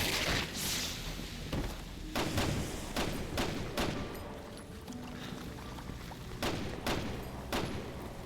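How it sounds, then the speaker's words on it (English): Gunfire in the video game Resident Evil 6, with sharp shots scattered irregularly across a few seconds, some in quick pairs, over a constant rumbling and watery background. "Where's she shooting at?"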